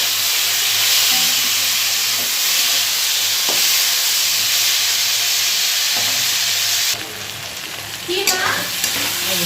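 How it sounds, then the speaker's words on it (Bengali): Fish oil hisses and crackles in a hot wok with a loud, steady sizzle throughout, the sound turning noisier and louder for the last couple of seconds as oil is added. "তো ভাজা ভাজা হয়েছে, এবার তেলটা দিয়ে দিলাম।"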